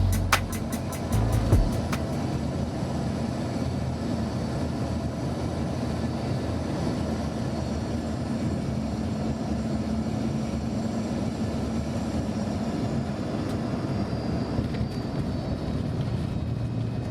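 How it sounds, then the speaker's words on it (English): Steady broad rumble inside a Western Air airliner landing on runway 10 left at Fort Lauderdale Hollywood International Airport, a few rattling thumps early on, then continuous even engine and airflow roar throughout. "we finally made our way to land on runway 10 left at Fort Lauderdale Hollywood International Airport"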